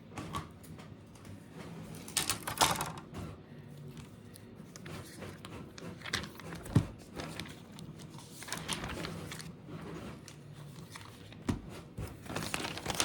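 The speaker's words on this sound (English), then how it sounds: "I haven't cut the protective covering sheets yet, so let me do that." Protective laminating sheets being cut to size for handmade notebooks, giving repeated crinkling and crisp snipping sounds, close and moderately loud, with a few sharper cuts.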